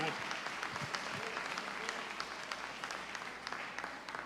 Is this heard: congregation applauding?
yes